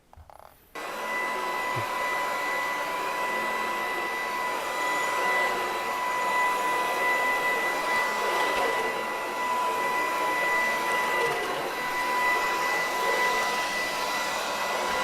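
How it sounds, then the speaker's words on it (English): A BISSELL ICONpet cordless vacuum cleaner with a tangle-free brushroll switches on after a brief silence. It then runs with a steady, close whirring hum and a high whine, unbroken and with no talking. "This is how you vacuum"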